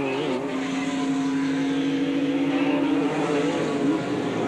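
A Formula Holden open-wheel race car passes on the Mallala circuit. Its engine note is loud and steady, then shifts pitch as the car goes by close to the track edge.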